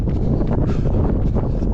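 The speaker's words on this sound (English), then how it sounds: "Oh, it's very windy." Strong wind on a running track buffets the microphone with a continuous low roar and gusty rushing noise, loud and close, with no other clear sounds.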